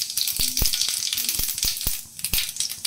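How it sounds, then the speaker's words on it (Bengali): Whole cumin seeds sizzling in hot refined oil in a pan, a steady crackling hiss broken by several sharp clicks and taps of utensils. "রিফাইন অয়েলটা যেই গরম হয়ে যাচ্ছে উনি নিয়ে নেব কিউমিন সিডস"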